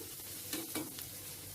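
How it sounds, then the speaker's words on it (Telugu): Garlic fries in oil with a quiet, even sizzle, and two brief stirring scrapes stand out in the middle. "ఇప్పుడు ఈ వెల్లుల్లి కొద్దిగా వేగిన తర్వాత మరి ఎక్కువ వేగకూడదు"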